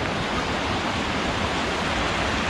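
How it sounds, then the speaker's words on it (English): A small creek flows steadily near Fishhawk Falls on a mossy Northwest Oregon trail, a soft, even rushing of water that continues unbroken throughout. "Beautiful little creek."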